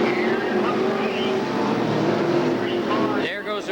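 Sportsman division race cars roaring past on the Mahoning Valley Speedway oval, a loud dense engine drone that swells and fades as the field passes, with a commentator's voice running over it.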